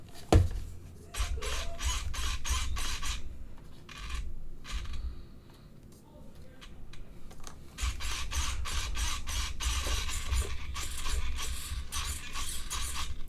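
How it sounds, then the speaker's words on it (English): The steering servo on a GNCRC RC car whirs in quick repeated bursts, a close mechanical buzzing that pauses briefly before resuming at length. "Servo seems like it's pretty strong."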